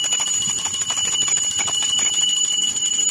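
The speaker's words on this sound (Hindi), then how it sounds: "घंटी बजा कऽ।" A hand bell rings steadily during Hindu puja worship, its bright metallic strikes sounding loud and close in a continuous, unbroken peal with no talking.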